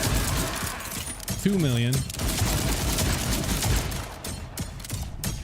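Shotgun fire in the video game Borderlands 4, dense bursts of gunfire and in-game effects running continuously, with someone talking over the shooting.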